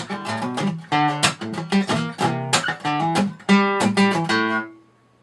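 An acoustic guitar plays the opening of a song's solo: a quick, busy run of plucked notes and chord stabs, close and clear, ending with a brief ringing tail.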